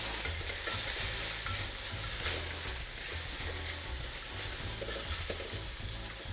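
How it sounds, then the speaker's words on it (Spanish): Carrot is stirred into Chinese-style fried rice in a hot pan, a steady sizzle with continuous scraping and tossing close up and no voices. "En este punto puedo agregar mi zanahoria, que es el vegetal que es un poquito más durito de cocinar. Revolvemos."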